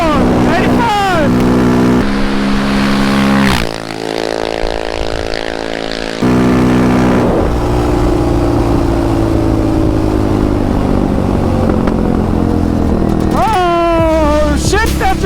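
A Big 5 Yamaha Raptor quad's engine revs hard at high RPM, rising pitch sweeps at the start and near the end around a sustained loud drone, with a voice talking over it.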